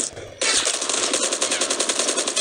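Rapid automatic gunfire in a Call of Duty battle royale match, loud and close, a sustained burst of evenly spaced shots that starts abruptly after a brief muffled moment, with no talking.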